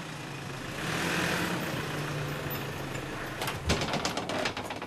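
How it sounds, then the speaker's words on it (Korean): A familiar car pulls into a rural farmhouse yard late in the evening, its engine idling with a low, steady hum before a few sharp clunks and knocks near the end. "낯익은 차 소리와 함께 사위가 돌아왔습니다"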